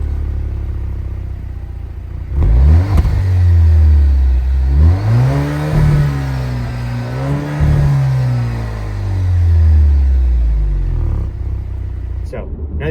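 An Alfa Romeo Giulia Veloce with a 280-horsepower inline-four engine accelerates, its pitch climbing and dropping through several gear changes as a steady, close engine drone runs for about ten seconds.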